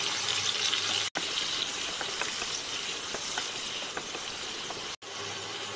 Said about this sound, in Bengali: টমেটোগুলোকে আমরা বেশ ভালো করে লাল করে ভেজে নেব।